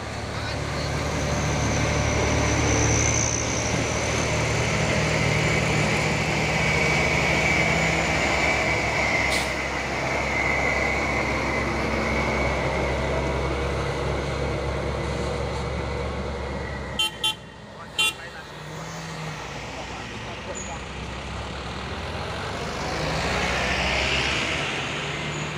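A UD Trucks Quester container trailer truck runs with a steady low engine drone, joined by a few brief sharp toots near the end before the rumble swells again.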